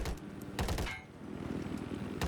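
A scout helicopter's 25mm cannon in Battlefield 4 fires in rapid bursts of sharp, punchy shots, a short volley, a brief gap, then more rounds, fairly near over engine drone.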